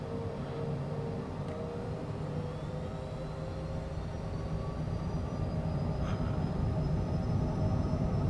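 Twin jet engines of a Cessna Citation CJ4 roar steadily at takeoff power inside the cabin, a loud continuous rumble with a rising whine as the jet accelerates down the runway.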